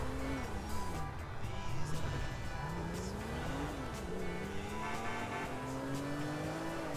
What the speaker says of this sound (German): Oh, und dann holen wir uns mal die Karre.